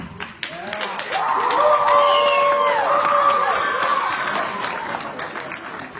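A school audience cheers and claps loudly for several seconds to pick a contest winner, with a shrill whistle-like tone riding over the noise before it fades slightly.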